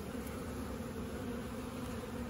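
A honeybee colony hums steadily at an opened hive during fall hive inspection, a close, continuous drone of many bees with a low, even pitch and no voices.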